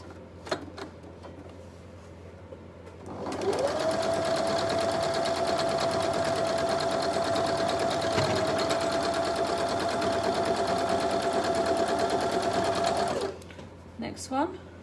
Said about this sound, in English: bring in the machine. And you're going to stitch them together.